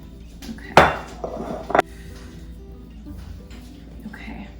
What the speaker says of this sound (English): Dump all of your dough out onto your surface.